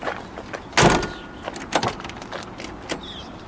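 The heavy, spring-assisted door of a 1957 Cadillac Eldorado Brougham four-door pops open with a sharp mechanical clunk, followed by softer latch and hinge knocks, close to the microphone with no talking.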